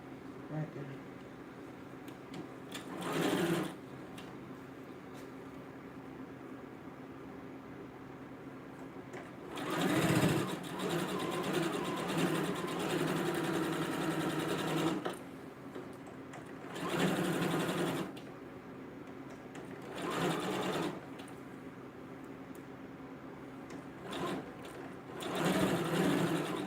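A sewing machine stitches a matching hat and bag in short bursts of rapid whirring, separated by quieter pauses for repositioning the fabric.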